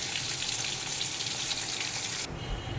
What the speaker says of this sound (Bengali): মিডিয়াম ফ্লেমে আমি চিংড়ি মাছগুলো উল্টে পাল্টে ভেজে নিচ্ছি 3-4 মিনিট ধরে।